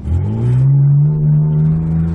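An old, sluggish BMW engine revs up and holds a loud, strained drone, close by, with the pitch climbing briefly before settling.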